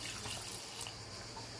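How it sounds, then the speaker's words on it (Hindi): Water from a glass poured into a cooking pot of chekan nihari thickened with flour, a steady broadband splashing and running-water rush heard close up with no talking. "तो 2 गिलास पानी डाल देंगे"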